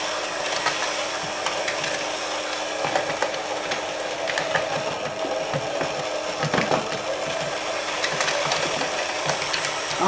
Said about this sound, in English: I'm going to start adding bits of sugar and keep whisking.